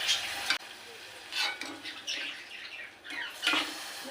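Freshly fried madatha kaja, flaky folded sweets, dropped into sugar syrup, giving several soft splashes and brief sizzling bursts with light stirring and pan clatter, close by and without talk.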